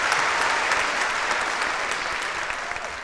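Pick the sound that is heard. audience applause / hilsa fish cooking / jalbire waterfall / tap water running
audience applause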